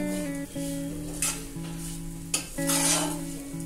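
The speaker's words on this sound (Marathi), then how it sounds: "आणि त्यांना व्यवस्थितरित्या परतून घ्यायचे तुपावर।" Almonds are stirred and sautéed in ghee, giving a soft sizzle under scraping spoon strokes against the pan. A sustained tonal hum runs underneath, and a few sharper clinks and scrapes stand out.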